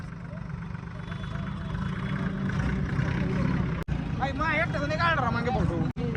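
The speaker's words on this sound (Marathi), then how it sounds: "चालू राहिला ट्रॅक्टर" A new tractor's steady mid-pitched engine rumbles continuously nearby while people talk over it, with a brief cut partway through.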